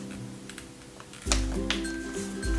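Magnetic keyboard snapping onto a Teclast Tbook 10 S tablet: a firm low thud as it attaches, followed by light clicks and a second settling knock, close and clear with no talk.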